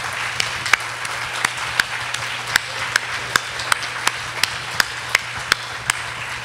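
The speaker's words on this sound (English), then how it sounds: "So let's give them an applause." Audience at a town council at-large candidate forum in Amherst applauds the candidates, a moderate crowd clapping continuously with individual sharp claps standing out at a fairly even rhythm over a low steady hum.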